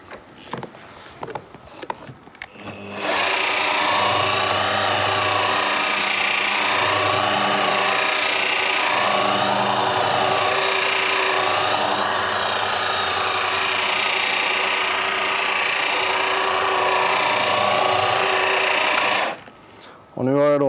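A polishing machine buffs a car hood with a loud, steady motor drone that holds for about sixteen seconds. A few brief clatters come before it, and the drone stops abruptly near the end.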